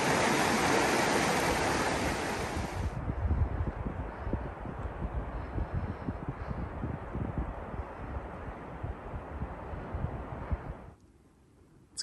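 Mountain stream in the San Juan Weminuche wilderness of Colorado, water rushing loudly and steadily up close, then dropping to a quieter flow near the end.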